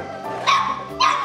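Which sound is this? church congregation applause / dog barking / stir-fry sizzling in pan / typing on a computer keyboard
dog barking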